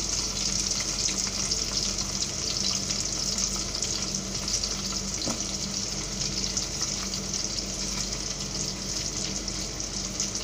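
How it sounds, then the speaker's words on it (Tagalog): Chicken for adobo frying in boiling oil, a steady, dense sizzle that holds loud and even from start to finish, with a low background hum beneath it. "Diretso na isang kumukulong mantika."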